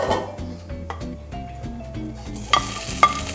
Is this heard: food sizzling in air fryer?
yes